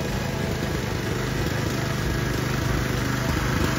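A farm tractor's engine runs steadily and loudly at close range, a continuous even chugging drone with no pauses or talk.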